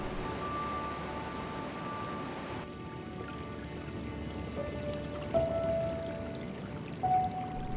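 Steady rushing water of Hance Rapids on the Colorado River in the Grand Canyon, a continuous broad wash with a few faint tonal whistles over it.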